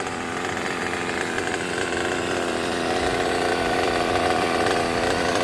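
A Kyosho USA-1 Nitro RC truck's nitro engine idles in a steady, raspy, chainsaw-like buzz. It holds an even level throughout, close by, with no voices.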